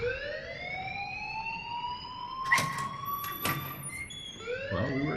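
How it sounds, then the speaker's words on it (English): A wailing, siren-like alarm rings in the video game Life is Strange, its steady tone rising slowly over several seconds, with a couple of sharp knocks and clatters cutting in partway through. "please turn off that alarm since that's your job"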